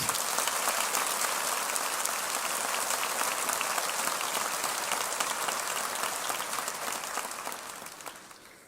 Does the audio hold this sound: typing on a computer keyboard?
no